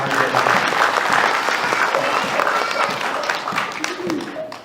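A church congregation claps together in a sustained burst of applause filling the room, and a voice can be heard under the clapping.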